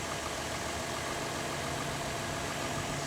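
A Chevrolet Camaro convertible's 3.7-liter six-cylinder engine idles quietly and evenly, a steady low hum with belt whir running throughout and no talk over it.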